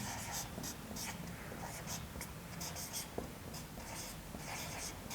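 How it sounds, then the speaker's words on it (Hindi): Chalk or marker scratches across a classroom board in short, close strokes and taps, repeating in quick bursts while a teacher's voice carries on faintly in the background. "एक मिनट हम नीचे लिखते हैं।"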